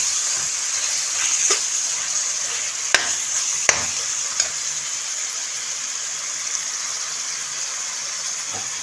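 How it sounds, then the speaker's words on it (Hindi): Mutton keema frying in a pan with a spoonful of ginger and green chilli paste, giving a steady close sizzle with a few sharp clicks of a spoon or spatula against the pan. "अदरक और सब्ज़ मिर्च का पेस्ट ऐड कर देंगे 1 चम्मच।"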